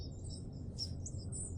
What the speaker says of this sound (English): Sun coming up, the woods coming alive, birds chirping.